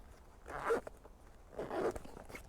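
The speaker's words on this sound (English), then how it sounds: "I find this double zip arrangement a bit fiddly" Two short zipper pulls on the double-zip bag of a 2021 Royal Enfield Himalayan motorcycle, quick close rasps separated by about a second, fairly quiet.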